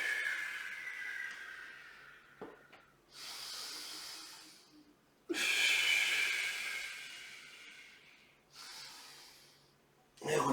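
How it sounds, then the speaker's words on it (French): Slow, deep breaths during a Pilates exercise on a Swiss ball: airy inhales and long hissing exhales alternate in a steady rhythm, close and fairly soft. "inspirez, soufflez"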